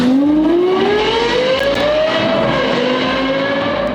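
A 2010 Lexus LFA supercar engine sings loud and close in a smooth, rising high-pitched wail, climbing steadily through the revs before easing slightly, with no talk over it.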